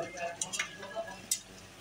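Duck meat fries with potatoes and ash gourd in a pan for an Assamese curry, giving a soft sizzle with a few quick scraping stirs and light clinks up close.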